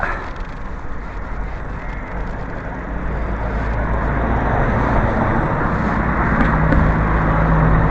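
Steady road traffic on a residential street, a broad continuous rumble of cars driving past that swells slightly louder toward the end, with no clear individual pass-bys standing out.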